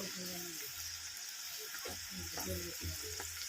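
Hibiscus flowers sizzle steadily in hot oil for a homemade hair oil, with a close, constant crackling hiss and occasional soft stirring, while a faint voice speaks underneath.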